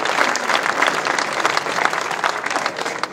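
An audience at a city's annual State of the City address applauds, a dense, steady wash of many hands clapping, fairly loud and unbroken with no talk over it.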